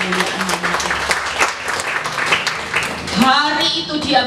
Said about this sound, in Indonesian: Tepuk tangan buat kemuliaan.